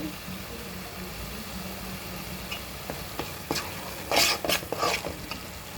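Fish frying in a pan for a Telugu chapala pulusu, with a steady low sizzle throughout and a few louder crackling bursts near the end.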